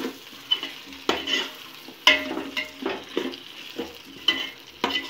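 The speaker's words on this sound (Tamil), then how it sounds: "கொத்தமல்லியை போட்டுட்டு நல்லா மிக்ஸ் பண்ணி விட்டுக்கலாம்" Chicken marinated in yogurt is being mixed with fresh coriander for biryani, producing a series of wet, squelching stirring strokes with soft utensil scrapes, spaced irregularly, close and moderately loud.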